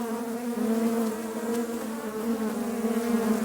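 Agitated honey bees at an opened late-winter hive full of honey produce a dense, steady, close-up buzz with a droning hum and no voices.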